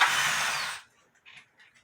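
A power drill whirs loudly for under a second while removing a ceiling fan, then cuts off abruptly, leaving faint handling clicks and small knocks in near silence.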